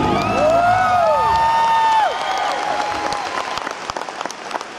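Loud concert audience applause and cheering at a live show in Erie, Pennsylvania, with whoops over steady clapping that eases slightly after two seconds but continues throughout.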